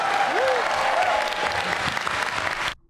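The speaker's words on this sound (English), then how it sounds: "I'm gonna have a special round of applause for Ryan Parrott." Enthusiastic applause from a crowd, dense and steady clapping with some cheering mixed in, ending abruptly.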